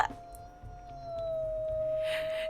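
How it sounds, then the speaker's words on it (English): A wolf pup in the video game WolfQuest Anniversary Edition gives a thin, high-pitched squeaky howl that rises and holds steadily for about two seconds over a low background hum, with a brief hiss near the end. "And then the squeakiest of howls."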